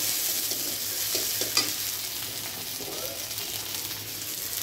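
Garlic paste fries in a pan for a spicy tengra fish curry, giving a close, steady sizzle with a few soft stirring knocks.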